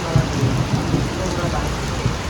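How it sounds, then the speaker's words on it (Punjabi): Heavy rain pours steadily outdoors over Punjab wheat farmland, a dense, loud, continuous hiss with a low rumble underneath and no talking. "ਹੁਣ ਮੀਂਹ ਪੈ ਰਿਹਾ ਜੀ ਪੂਰਾ"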